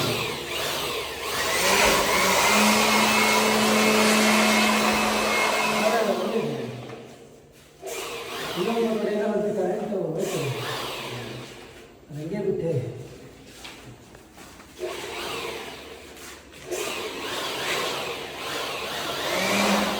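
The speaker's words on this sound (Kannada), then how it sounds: "ಇದಕ್ಕೆ ಮ್ಯಾಟ್ ಫಿನಿಶಿಂಗ್ ಹೊಡಿತಾರೆ" A spray gun applies matte Asian Paints PU wood polish to wooden woodwork in a home shrine room, hissing loudly and steadily in long bursts that stop and restart, while someone talks between and over the spraying.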